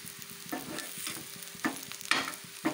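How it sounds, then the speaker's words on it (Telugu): Curry leaves are stirred as they fry in a pan: a steady soft sizzle broken by several sharp scraping strokes of the spoon against the metal, close and moderately loud, with no voices. "ఇలాగా మనం కలుపుకుంటే చుట్టూ ఫ్రై అయిపోతాయి అన్నమాట"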